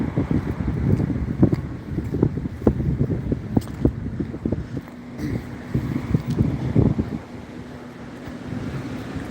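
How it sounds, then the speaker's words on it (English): Gusty wind buffets the microphone outdoors near a tractor, a loud, continuous low rumble with irregular surging bursts that never lets up. "Sorry for the wind, guys."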